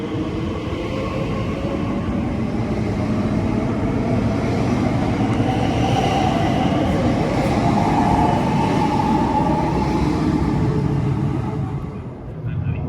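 An Elizabeth Line Class 345 train runs through London with a steady, loud rumble and rushing roar that holds for the whole stretch, then eases slightly at the end.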